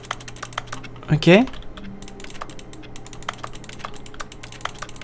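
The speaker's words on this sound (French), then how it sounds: "Quand on touche quelque chose, ça fait un bruit de clavier." Keyboard-style clicks sound in The Stanley Parable Ultra Deluxe when objects are touched; a short louder burst of rapid keystrokes stands out before scattered lighter taps continue, with a brief spoken word.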